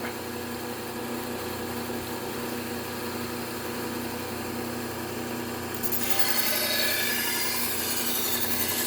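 A kitchen knife being sharpened on a Trizact A30 abrasive belt: a continuous, steady grinding hiss that turns brighter and harsher partway through.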